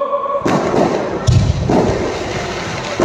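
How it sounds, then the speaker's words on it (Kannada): Firecrackers bursting in a city street during a public celebration, a few loud, sharp thuds at irregular intervals with a noisy, rumbling tail between blasts and faint talk underneath. "ಪಟಾಕಿ ಹೊಡೆಯುವುದನ್ನು ನಿಲ್ಲಿಸಬೇಕು ಅಂತ ಕೇಳ್ಕೊತೀನಿ"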